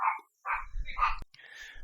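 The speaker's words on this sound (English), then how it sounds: "Sorry about the dogs in the background." Several dogs barking in short, sharp bursts at moderate distance, three or four yaps in under two seconds with a higher whine trailing at the end, no talking.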